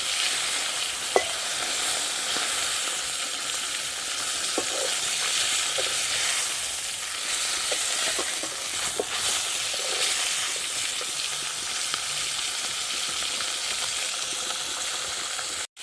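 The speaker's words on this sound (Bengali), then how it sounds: "এবার মাছের মাথা মাথাটা ভাজছি" A fish head frying in hot oil in a home kitchen, giving a continuous loud hiss and crackle with scattered small pops and occasional utensil taps throughout.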